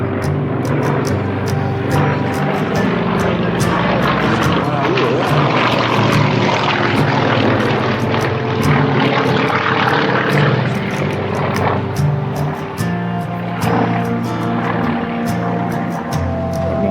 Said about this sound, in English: it's an acrobatic type plane